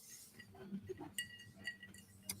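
Glasses holding tequila and light tonic water with lime wedges clink together in a toast, with several faint, sharp chimes close by and quiet voices around them.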